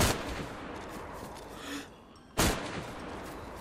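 Two sharp gunshots crack from a first-person shooter video game, one at the very start and another a couple of seconds later, each a sudden burst over quiet ambient game background.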